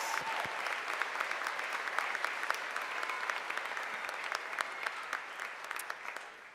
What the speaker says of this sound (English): Can we please give them a huge round of applause to the class of 2026?